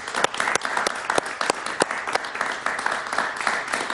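Warm audience applause for a guest during an interview event, a dense, continuous wash of clapping from a crowd with a few sharper claps standing out.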